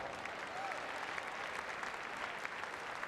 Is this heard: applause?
yes